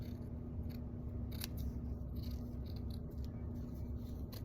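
Scissors snip through paper while cutting out a rainbow shape, a steady run of close, soft crisp cuts over low room hum, with no talking.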